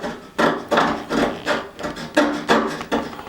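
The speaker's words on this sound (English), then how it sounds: "we're still going to use a sharp tool just to scrape the surface" A sharp tool scrapes across the damaged gelcoat surface of a boat in about eight firm, evenly spaced rasping strokes. The strokes are close and distinct, with no talk over them.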